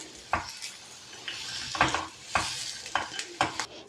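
A spoon stirs fried dry fruits and dates together in a pan, with repeated scraping strokes and clinks against the metal over a soft steady sizzle.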